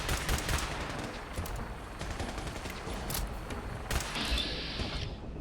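Gunners in Fallout 4 fire rapid volleys of distant gunfire, a quiet dense crackle of overlapping shots that continues steadily with no talk.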